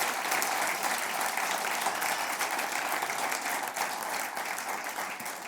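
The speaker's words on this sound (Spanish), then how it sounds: "Dele otro aplauso, hermano." A church congregation claps in sustained, even applause, a steady wash of many hands at moderate volume throughout, with no voices standing out.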